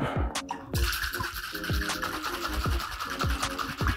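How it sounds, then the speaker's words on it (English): A cocktail shaker holding a Butterfly Southside with egg whites gets a dry shake, a steady fast rhythm of repeated sloshing thumps and rattles throughout, loud and close. "Now I'm gonna go ahead and give this guy a dry shake to emulsify those egg whites with"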